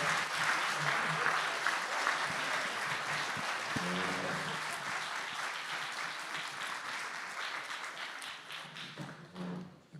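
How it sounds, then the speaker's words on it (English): Applause from a candidate forum audience fills the room, a steady dense patter of clapping that swells at first and then slowly tapers, with a voice briefly heard toward the end. "Let's give them a hand."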